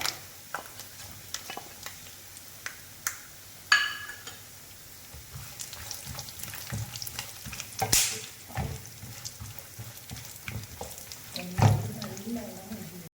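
Cashew nuts fry for a Kerala-style pumpkin dal payasam, a soft continuous sizzle broken by scattered clicks and scrapes of a spoon in the pan.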